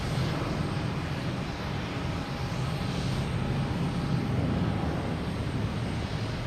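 An Icelandair Boeing 767 arriving from Keflavik at Boston Logan Airport roars as a steady, loud, broadband jet rumble that holds evenly throughout, heavy in the low end.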